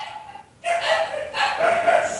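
A dog barks close by in a quick series of yips and barks after a brief lull, fairly loud and with no talk over it.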